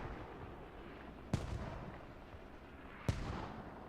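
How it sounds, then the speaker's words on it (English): Two incoming mortar impacts in a video game battle, each a sharp distant thump with a short rumbling tail, spaced about two seconds apart over low background noise. "Mortars are starting to come in."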